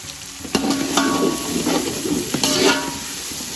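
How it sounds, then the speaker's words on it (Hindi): Coriander and fried onions are stirred into a pot of beef yakhni pulao, with loud close scraping and clattering strokes against the pot over a soft background sizzle. "इनको अच्छे से मिक्स कर देते हैं।"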